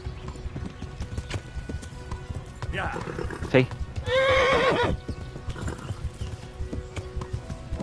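Horse hooves clip-clop in a steady galloping rhythm in the video game Kingdom Come Deliverance, with a loud whinny breaking through midway and someone speaking briefly over the action.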